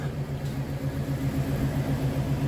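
A 2000 GMC Sierra 2500 HD with a dead battery being jump-started gives a steady low engine hum with a pulsing drone, close and continuous, no speech.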